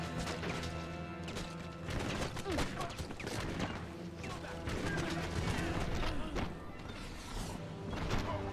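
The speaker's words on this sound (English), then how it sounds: "Shotgun." Shotgun fire in Enter the Matrix, a dense run of loud blasts and impacts crashing close together, mixed with clatter and other game effects throughout.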